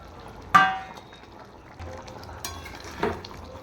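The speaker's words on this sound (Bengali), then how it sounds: "ফুটে গেছে, এবার আমি মাছগুলো দিয়ে দেব। এবার দিয়ে দেবো ভেজে রাখা বেগুন।" Fish and fried eggplant dropped into a pot of boiling Bengali fish curry, giving a sharp sizzling splash followed by two softer stirs and spatters of bubbling liquid.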